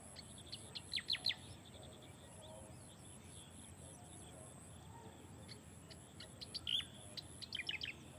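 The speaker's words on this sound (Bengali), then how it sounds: "এই পাখিটা ডাকতেছে।" A bird calls with scattered bright chirps, faint and somewhat distant, in brief bursts over a steady high insect-like whine and a quiet outdoor background.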